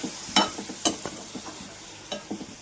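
Chopped tomatoes go into a hot pan for a fenugreek leaf curry, giving a soft sizzle under a few sharp clacks and scrapes of a spoon stirring against the pan.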